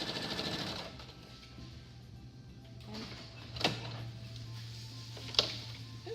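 Home sewing machine running a long basting stitch, a steady low mechanical hum with a brief rattling burst at the start and a couple of sharp clicks, fairly quiet, no one speaking.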